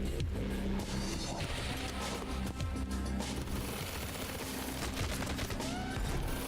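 Rapid bursts of gunfire crackle through a dense, steady wash of game noise in the side-scrolling action game Sanabi, continuous and busy with no clear pauses.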